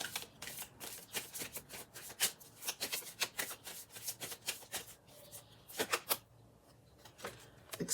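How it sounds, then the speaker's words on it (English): Oracle cards being shuffled for a pick-a-card reading give a steady run of crisp riffling and slapping bursts, close and fairly quiet, with no talking. "let's pull some oracle cards to find out more about this connection"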